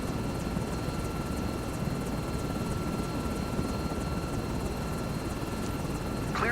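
Aircraft engine in Microsoft Flight Simulator 2024 at takeoff on runway 27: a steady, loud, droning engine hum with a faint pulsing beat, unbroken from start to finish.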